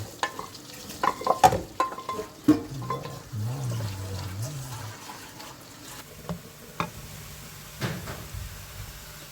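Mushrooms sautéing in melted butter in a hot pan give a faint sizzle, while stirring and utensil clatter come through as scattered clicks and scrapes at close range.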